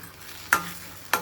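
Masala for a spicy chicken rassa roasting in a pan, a low steady sizzle broken by two sharp scraping stirs of the spoon, close and clear with no talk.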